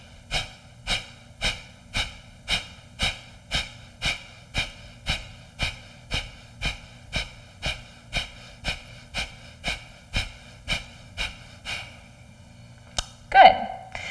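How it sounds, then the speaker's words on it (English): Steady, rhythmic yoga breathing through the nose, about twenty quick even breaths in a row, close and clear, with no talking, ending in a sharper louder breath. "inhale and do this for anywhere from 20 to 30 breaths"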